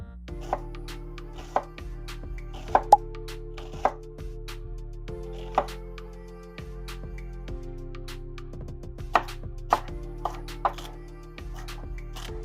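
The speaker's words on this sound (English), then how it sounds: "Let's start chopping up the veggies." Knife chopping vegetables on a cutting board: irregular sharp thuds and taps, close up, with a low background hum underneath.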